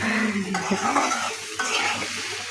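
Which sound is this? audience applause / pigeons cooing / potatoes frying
potatoes frying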